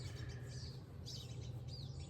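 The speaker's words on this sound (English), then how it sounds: "the birds are chirping" Birds chirp and tweet in short scattered bursts over a steady low background hum, outdoors in May, with no voices.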